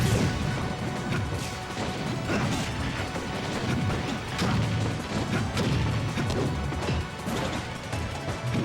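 Ike lands a heavy forward smash in a Super Smash Bros match, a loud crunching hit that sits inside a dense, continuous wash of game effects and impacts.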